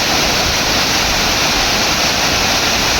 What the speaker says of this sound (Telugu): ఆ వాటర్ అలా పడుతూ ఉంటే కనుక వేరే లెవెల్ ఉంది.